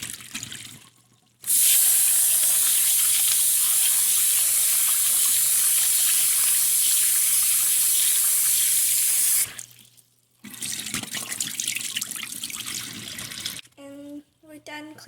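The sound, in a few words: washing rice under running tap water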